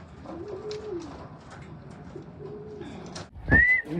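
Pigeons cooing in soft, low, drawn-out calls over steady outdoor wind, with a brief louder flutter and a rising whistle near the end.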